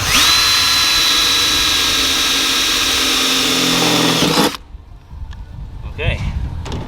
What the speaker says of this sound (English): Drilling in the roof.